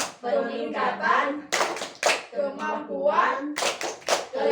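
A group of women chant in unison with loud rhythmic hand clapping, short clusters of claps alternating with spoken chant lines in an Indonesian P2K2 clap routine at a community meeting.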